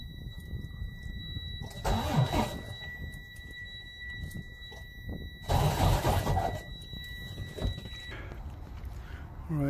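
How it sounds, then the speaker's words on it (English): A Freightliner truck engine is cranked without starting after a belt tensioner change; the starter whirs in two short bursts of a second or so each, separated by quieter workshop sound. "I'm just going to spin it for one time, not to start the truck, and see if it's sitting properly"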